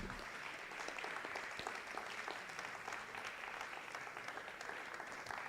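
An audience claps steadily and evenly at an AI training launch ceremony as a certificate is presented. The fairly faint, dense applause sounds from a distance.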